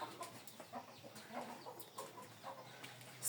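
Laying hens cluck softly and steadily at a homestead chicken house, several faint, overlapping calls spread over a few seconds against a quiet outdoor background.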